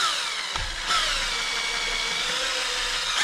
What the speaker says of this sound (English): I'm going to drill a little pilot hole down through the ACM